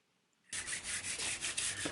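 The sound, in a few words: 800 grit nail file rubbed on model railroad track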